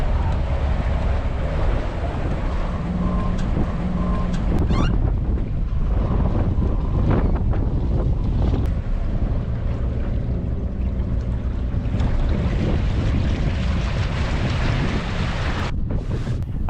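Sailboat on choppy San Francisco Bay in a strong crosswind, with steady loud wind buffeting and rushing water and wave noise throughout, continuous and close with no talk.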